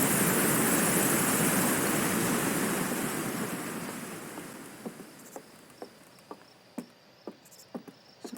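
A loud waterfall in the video game Outer Wilds roars as a broad, steady rush of falling water that slowly fades away, while soft rhythmic footstep-like taps become audible beneath it.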